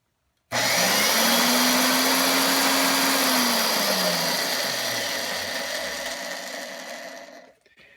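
An old, heavy 19-pound electric drill starts abruptly with a loud whine, runs steadily, then gradually spins down and cuts off near the end.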